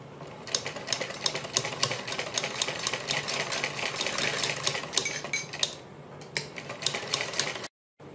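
A sewing machine runs in a fast steady rattle while stitching a net neck design, with clicking metallic accents throughout, slowing near the end before stopping abruptly.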